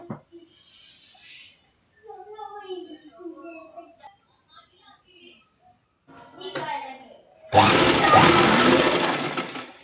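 A sewing machine stitches a casing on a dress for a deity idol, its loud steady whirring run starting near the end after quiet moments of speech and small handling noises.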